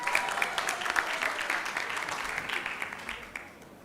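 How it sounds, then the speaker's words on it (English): A crowd at a newsroom contest grand finale claps for a few seconds. The dense applause is fairly loud at first, then slowly fades, with no talking over it. "May we clap for the live reporter?"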